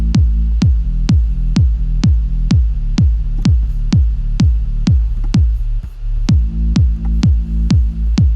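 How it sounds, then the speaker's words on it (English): Steady four-on-the-floor kick drum in an electronic dance mix, deep thumping hits about twice per second with a lingering low resonant boom ringing between them, loud and upfront under a faint hissy upper layer. "I hear some kind of a resonation there from the kick"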